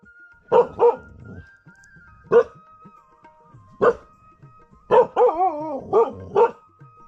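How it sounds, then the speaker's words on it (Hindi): A dog barks loudly and close by in short bursts, several single and double barks spread over a few seconds, some with a whining, wavering tone. "कुत्ता बहुत खतरनाक भौंक रहा है बाहर"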